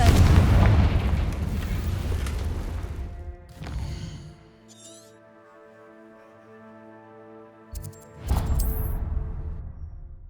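A Confringo fire spell bursts in Hogwarts Legacy, with heavy booming blasts at the start and again near the end, separated by a quieter stretch of sustained tonal game music and effects.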